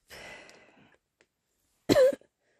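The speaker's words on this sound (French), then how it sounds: "Ouais, je tousse." A single close, harsh cough bursts out after a stretch of breathy, rustling noise and a short silence.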